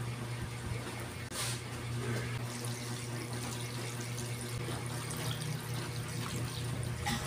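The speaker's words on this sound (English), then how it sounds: "we're going to take some liquid of our labs into our small jar" Lactic acid bacteria liquid is poured into a small jar, giving a steady, soft watery trickle that runs throughout over a constant low background hum, with no talking.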